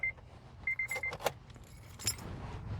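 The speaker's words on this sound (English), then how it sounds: "So let me turn off the car." Keys jangle in a 2008 Honda Civic coupe as the engine is switched off, with a few short metallic clinks and a brief chime over a low, steady idling rumble that quiets.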